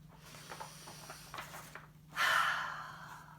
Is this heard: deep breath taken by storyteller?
yes